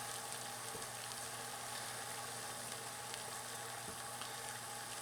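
Water comes to a boil in a pot over an Esbit solid-fuel stove, giving a faint, steady hiss and bubbling rush with no talk over it.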